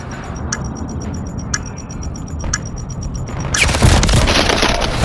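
Pistol fire in a shooter video game: three sharp, evenly spaced shots about a second apart, followed by a louder sustained burst of gunfire and blasts.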